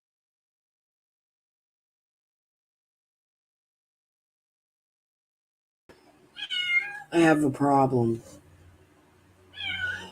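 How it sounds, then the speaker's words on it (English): After several seconds of silence, a kitten meows loudly indoors, a few insistent cries close by, mixed with a person speaking briefly. "We have a kitten in the room, and every time I go to grab it, it runs for me and runs under something"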